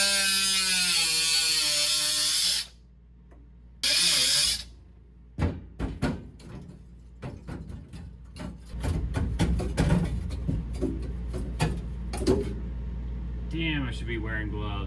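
A rectangle is cut out of the rotted floor of a Chevy LUV pickup. A loud, steady power-tool whine stops and starts, then gives way to a run of sharp, irregular ratcheting, scraping and cutting noises close by.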